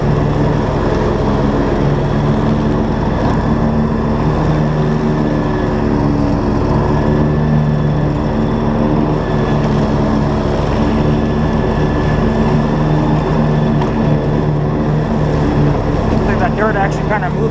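A lawn mower engine runs continuously while a whole home yard is mowed, a loud steady droning hum with a strong low tonal rumble and no break.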